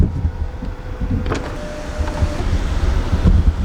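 A motor whirs steadily as the sunroof of a Hyundai Creta diesel top model closes. The sound is close and loud inside the cabin, and it ends with a brief thunk.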